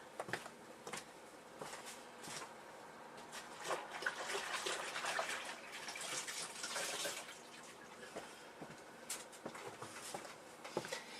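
Tap water runs steadily while something is rinsed beneath it, a continuous splashing hiss that swells in the middle and stays fairly close, with a few brief clicks and knocks and no talking over it.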